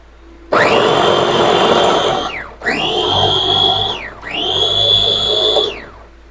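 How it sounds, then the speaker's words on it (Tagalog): Electric grinder whirring through pork and lumpia shanghai filling in three loud, steady bursts, each spinning up sharply and winding down with a falling whine between runs. "i-grind na natin to guys"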